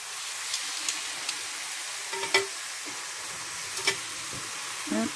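Chunks of meat for beef bourguignon brown in a pan, giving a soft, steady sizzle with occasional light clinks and stirring knocks, fairly quiet and close.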